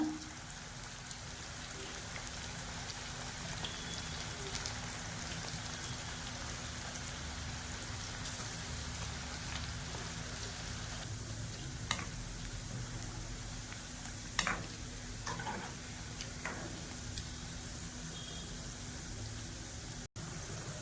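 Aval potato pakoda frying in hot oil gives a steady, fairly quiet hiss that sounds like light rain, broken now and then by a few sharper pops and crackles.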